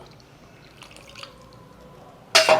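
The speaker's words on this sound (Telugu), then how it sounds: "కొంచెం నీళ్ళు పోస్తున్నాం ఒక చిన్న గ్లాసు" Water poured from a small glass into a pot while making curd rice: a quiet lead-in of faint drips, then a sudden short, loud splash near the end.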